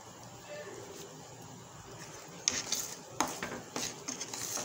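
Gram flour (besan) is roasted and stirred in a pan, giving a few sharp metallic scrapes and clinks of the spoon against the pan over a soft background hiss, growing busier toward the end.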